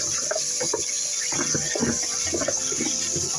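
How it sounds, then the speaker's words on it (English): Cold tap water runs steadily into a sink while carrots are rinsed under it, a continuous close splashing hiss with small irregular spatters throughout. "Just rinse them off in cold water"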